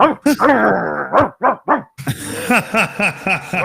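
A dog barks and yelps loudly in quick, excited bursts, close by, with a rapid series of sharp barks in the second half.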